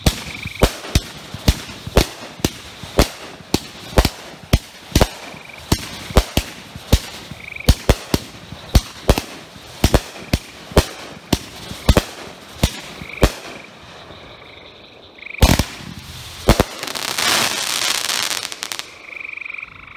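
A Shogun Big Opportunity fireworks cake fires a rapid string of sharp, loud bursts, evenly spaced cracks with booming echoes, ending in a denser crackling flurry as the final shots go off.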